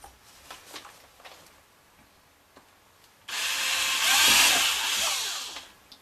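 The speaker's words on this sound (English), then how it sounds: "these are the drill holes for the beginning and the end of the slot" Power drill boring holes through a Stratocaster guitar scratch plate, a loud sustained whirring grind that starts midway and runs steadily for about three seconds before fading, after a few faint handling taps.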